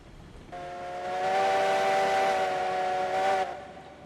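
A steam locomotive whistle sounds in the train simulation game Railroads Online, a single sustained tonal blast lasting about three seconds that swells louder, holds steady and cuts off, with no talking.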